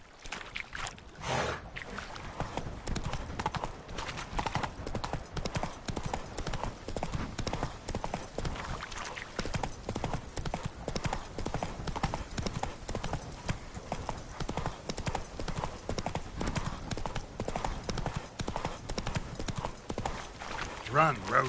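Geralt's horse Roach gallops in The Witcher 3, a continuous rapid drumming of hooves running throughout, with a voice speaking over it.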